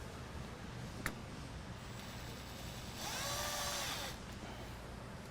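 A power driver briefly runs a small screw into plastic trim on the side panel of a 2022-2026 Storyteller van, a short whirring burst of about one second standing alone over quiet room noise.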